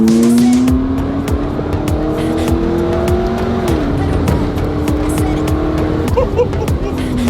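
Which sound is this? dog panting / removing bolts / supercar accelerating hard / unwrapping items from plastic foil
supercar accelerating hard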